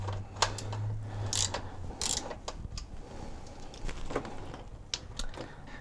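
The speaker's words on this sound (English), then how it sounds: "take your 14mm and just crack open that bolt" 14mm wrench cracking loose the transmission drain bolt on a Toyota 4Runner: scattered close metallic clicks and sharp ratcheting ticks at moderate loudness, with no talking.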